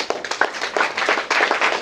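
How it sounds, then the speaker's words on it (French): Conference audience clapping in short bursts across the room, moderately loud with uneven rhythm, no talking over it. "Applaudissez pour vous."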